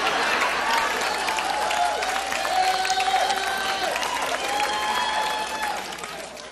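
Crowd applause with some cheering after a class, a full, dense burst of clapping that holds steady and then tapers off toward the end, with voices mixed into the noise.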